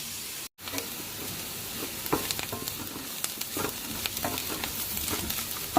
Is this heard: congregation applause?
no